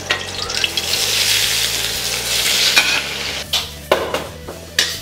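Garlic sprouts are stir-fried in a wok on an induction cooker in a commercial kitchen, with a steady loud sizzle and the scrape of tossing punctuated by a few sharp clanks and bursts near the end; no one speaks.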